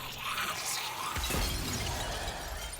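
An object shatters in the MediEvil video game, a sharp breaking crash followed by scattering debris, loud against a hissy game ambience with no voices.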